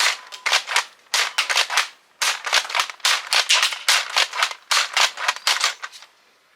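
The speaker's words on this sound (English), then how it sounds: "Adventure Force darts from Walmart. Let's go see how they fare. This is with barrel, by the way." Close, sharp clicks and snaps come in quick clusters from a Nerf Elite 2.0 Eaglepoint blaster firing Adventure Force darts with its barrel attached, with brief pauses between volleys.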